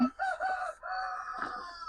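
Several roosters crow loudly and close by in a back-to-back burst, their drawn-out calls overlapping in a garden beside a forest.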